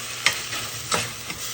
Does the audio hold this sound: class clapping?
no